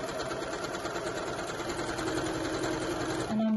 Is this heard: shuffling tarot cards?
no